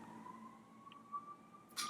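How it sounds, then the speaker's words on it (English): Police and fire engine sirens sound outdoors from a distance, a faint steady wailing tone heard through a quiet indoor room with a couple of small nearby clicks and bumps. "every time I'm filming a video, there's sirens"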